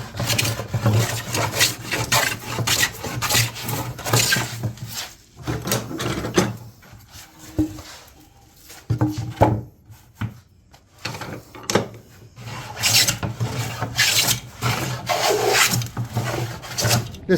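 A No. 5.5 hand plane works the edge of a small wooden slab, repeated close rasping strokes of varying length with short pauses between passes.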